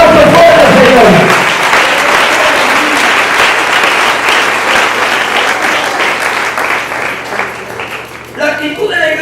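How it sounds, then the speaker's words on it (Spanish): A congregation in church bursts into loud, sustained applause, a dense wash of clapping that rolls on for several seconds before thinning out near the end, with voices mixed in. "¡Dale un aplauso fuerte,"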